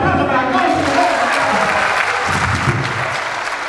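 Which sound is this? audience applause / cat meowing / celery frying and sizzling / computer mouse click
audience applause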